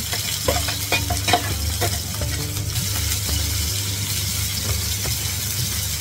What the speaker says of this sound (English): Now I'm frying this paste, grind this paste along with the small cut onion in ghee